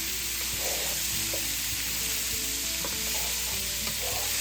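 Steady, close sizzling of bacon and chicken frying in butter in a pan, with occasional soft clicks and stirring scrapes throughout.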